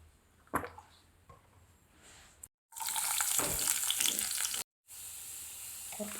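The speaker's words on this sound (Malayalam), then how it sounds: "നമ്മൾ ബീഫ് ഒന്ന് താളിച്ചെടുക്കണം കുറച്ച് വെളിച്ചെണ്ണ ഒഴിച്ചിട്ടുണ്ട് ചട്ടി ചൂടായിട്ടുണ്ട്" Beef is tempered in coconut oil in a hot pan, a quiet start with a few clinks, then a loud, broad sizzle that cuts off twice briefly before resuming.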